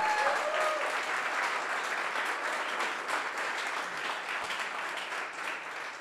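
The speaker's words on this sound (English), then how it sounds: "one round of applause" An audience at an esports panel at Dubai Expo 2020 claps in sustained, dense applause that holds steady throughout and fades slightly toward the end.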